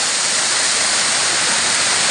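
Rushing water pours steadily at Gembleng Waterfall in Sidemen, a loud, continuous broadband roar heard up close with no talk over it.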